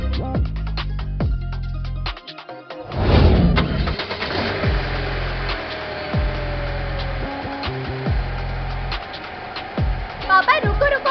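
A car engine starts with a sharp catch and settles into a steady idle, loud and close, with a rattling mechanical layer and a voice heard over it near the start.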